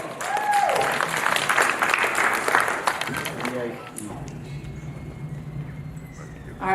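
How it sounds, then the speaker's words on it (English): Applause from an auditorium audience at an Edo Language Day gathering, clapping loudly over the first four seconds and then fading out, with speech-like murmuring mixed in. "Give her a round of applause."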